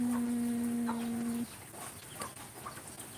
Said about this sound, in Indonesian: ini ada ayam.